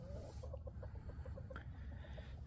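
Chickens cluck in a farm yard beside a steer feeding area, a quiet series of short, evenly spaced clucks close by.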